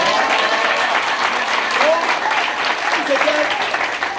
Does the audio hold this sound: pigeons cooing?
no